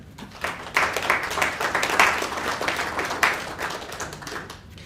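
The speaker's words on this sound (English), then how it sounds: "Round of applause, please." An audience at a public lecture breaks into sustained applause, a dense wash of many hands clapping that swells and then tapers off, heard from within the hall.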